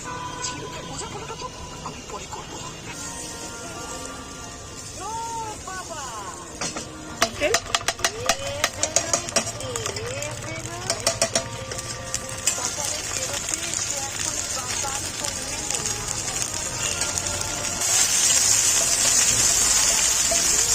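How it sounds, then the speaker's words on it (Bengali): Paneer frying in a mix of oil and ghee, a continuous sizzle with bursts of crackling and scraping stirring in the middle, while a person talks over it and background music plays. "পনিরে তেল ঘি মিক্স দিয়ে তাকে ফ্রাই করছি পনিরটা"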